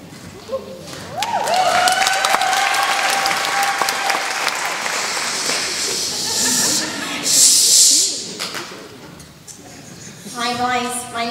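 Applause breaks out from an audience at a high school gala improv show, a broad, sustained clatter of clapping, fairly close and loud, that swells in the middle and tapers off, with voices and other noises mixed in.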